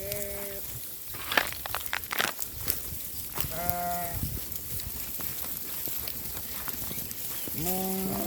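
Several sheep and rams bleat in wavering, quavering calls at the start, middle and end, over a busy outdoor flock murmur with scattered rustling and clatter.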